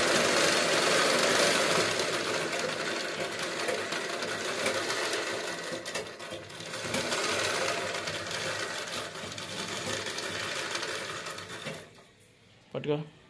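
Sewing machine running steadily while stitching a fall onto a saree, a loud continuous mechanical whir with engine-like knocking that carries on for about twelve seconds, then stops near the end with a brief rattle.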